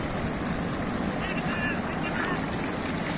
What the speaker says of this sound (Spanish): miren, grandes tumbos que caen